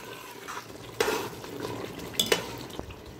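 Mutton curry masala with tomato paste frying in a pan, a low sizzle broken by a few sharp clanks and scrapes of a spoon against the metal.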